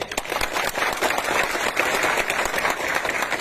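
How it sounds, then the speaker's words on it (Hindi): A crowd at a protest gathering in Sabroom, Tripura, claps in a continuous, busy burst of applause, moderately loud and sustained, with faint crowd murmur underneath. "सब इनको भी एक बड़ा ताली दीजिए"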